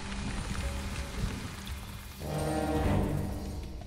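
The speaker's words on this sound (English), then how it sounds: "In May, the rains came." Steady rain falling in a jungle, a dense, continuous hiss and patter that swells a little heavier partway through, with no voices.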